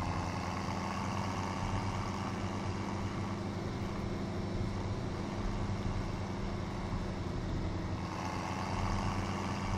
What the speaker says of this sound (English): I love the engine noise in this tractor.